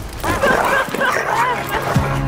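A dog yips and whimpers in short, high, wavering cries at close range, mixed with a voice talking over it in a noisy indoor space.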